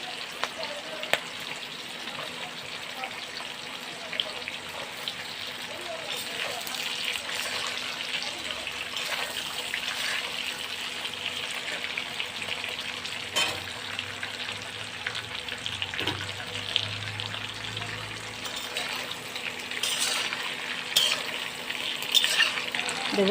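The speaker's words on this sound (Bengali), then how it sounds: "আর দেবো সবজি, আলু, বেগুন, পটল আর ডাঁটা।" Potato, eggplant, pointed gourd and stalks frying in a pan for a thin rohu fish curry, a steady close sizzle with occasional stirring scrapes and faint water sounds throughout.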